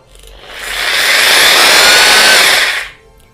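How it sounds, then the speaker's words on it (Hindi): A rotary hammer drill runs in plain drilling mode, spinning up to a loud, steady whine that holds for about two seconds before winding down. "ड्रिलिंग मोड पे हमारी rotary hammer normal drill machine की तरह ही चलती है।"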